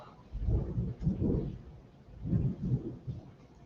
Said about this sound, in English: that rain's really starting to come down